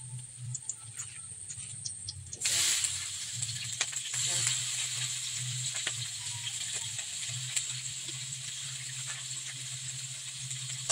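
Alugbati, or Malabar spinach, goes into a hot pan and sets off a sudden steady hiss and sizzle that carries on with light ticks and pops, under a low background hum.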